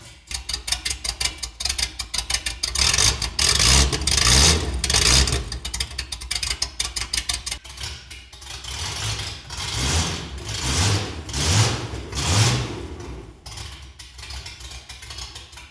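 A cheap supercar with a straight-piped exhaust revs loudly up close, sharp repeated blips and pulsing bursts giving way to a rough, rumbling idle with swelling throttle surges.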